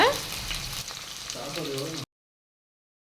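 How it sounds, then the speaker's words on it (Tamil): Chopped onion and a little garlic drop into hot oil in a pan and crackle and sizzle for about two seconds, fairly close, before the sound cuts off abruptly into silence. "இப்போ கட் பண்ணி வச்சுருக்கிறேன் வெங்காயம் சேர்த்துக்கிறேன். கொஞ்சமாக பூண்டும் சேர்த்துக்கிறேங்க."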